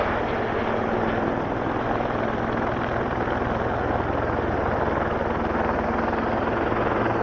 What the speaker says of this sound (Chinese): 那么晚了，这个水上飞机还在运营啊